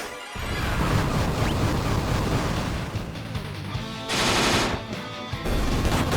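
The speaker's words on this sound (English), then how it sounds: "Gotta love heavy artillery" Heavy artillery in Final Fantasy III Pixel Remaster keeps up a dense, continuous barrage of rapid bursts and crashes, loud and unbroken for several seconds with a brief harsh swell near the end.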